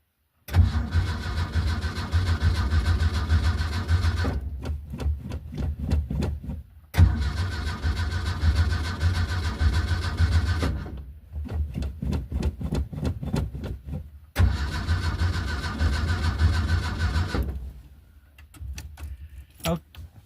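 An old scrapyard Ford Pinto engine cranks in long grinding bursts with short pauses between tries, loud and close, without catching clearly.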